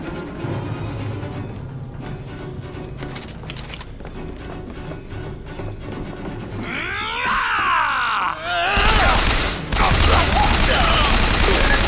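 Gunfire erupts in rapid volleys, building from scattered shots into a loud, dense barrage near the end, mixed with grunting voices and background noise.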